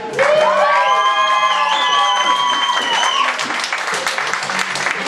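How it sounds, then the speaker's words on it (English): A poetry open mic crowd in a small venue bursts into cheers, yells and clapping, with high whooping screams over the first few seconds before settling into steady mixed applause and shouting. "practice one more time with a big fat thank you, with screams, yells, cheers, stomps, and claps for the boiler room!"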